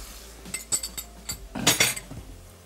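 Clinking of a utensil against a bowl as half a pao of yogurt is lightly whisked, a few scattered taps then a brief denser burst of scraping clinks, close and fairly quiet.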